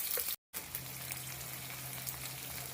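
Onion and green chili sizzling in hot oil in a pan, a steady, close crackling fry that runs continuously apart from a brief gap near the start, with no voices.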